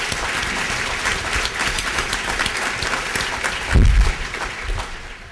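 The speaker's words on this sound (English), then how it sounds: "If we could please give a round of applause for our panelists" A breakfast event audience gives a round of applause for the panelists, steady dense clapping throughout, swelling briefly near the end before tapering off.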